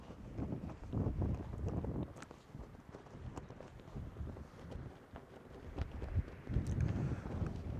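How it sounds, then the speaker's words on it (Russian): Strong wind buffets the microphone, fitted with a windscreen, in heavy, irregular low rumbling gusts on Mount Khustup in Armenia, with no speech. "то, что ветер очень сильный, ветрозащита одета"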